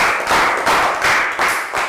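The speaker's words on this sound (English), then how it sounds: "Round of applause for Lakgao." Classroom applause for a Year 3 student during a health education sports lesson in Thailand: a short burst of loud, close clapping with a few strong rhythmic pulses.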